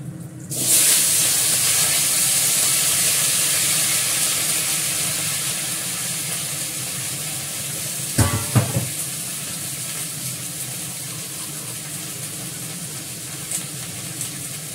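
Vegetables hitting hot oil tempered with whole spices and bay leaf, giving a loud sustained sizzle that slowly settles into a steady frying hiss, with a couple of brief clatters near the middle.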